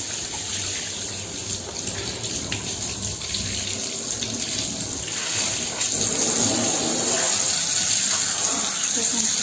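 A tap runs a strong jet of water into a sink to rinse a finished cross-stitch embroidery fabric, a steady close gushing splash that grows louder and fuller partway through, with a voice speaking faintly under it.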